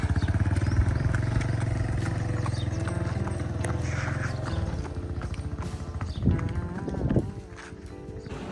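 Hooves clopping as a Marwari horse walks out to be watered on a farm, a rhythmic clatter at first under a droning motorcycle engine that then cuts out, leaving scattered hoof knocks and thuds.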